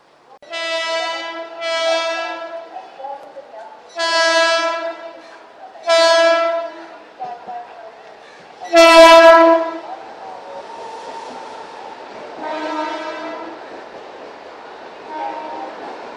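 Train horn blowing repeatedly at Malad railway station in Mumbai, several loud, close honks of varying length with a rumbling train passing beneath and fainter horn blasts afterward.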